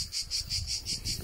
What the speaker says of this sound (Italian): Sentite che pace, solo le cicale qua regnano.